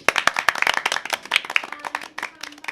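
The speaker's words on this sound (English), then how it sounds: "we would ask that you give a quick round of applause to our players and our GM" An audience claps for the players and game master at the close of a tabletop role-playing session, a short burst of brisk, close applause that thins out toward the end.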